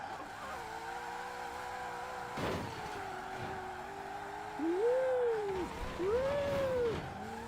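A 1900 hp drag-racing Ford Mustang in the racing game Forza Horizon 4 gives a steady engine drone that dips briefly, then two rising-and-falling revving swells as the car accelerates, loud and continuous.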